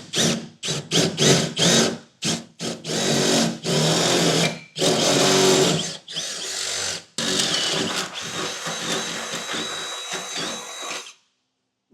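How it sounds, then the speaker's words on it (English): A power drill whines loudly in repeated bursts, biting through the steel of trailer hitch base rails on a 2015 Ford truck, with short pauses between runs, then falls silent at the end. "Now I'm going to go ahead and drill through these."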